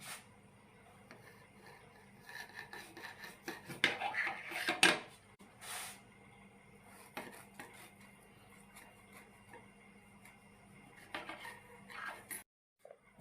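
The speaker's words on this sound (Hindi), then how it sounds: "और इस तरीके से आपने इस केक को काट लेना" A knife scrapes and cuts around a chocolate cake on a plate, faint intermittent scraping and light clinks with a brief louder rasp in the middle.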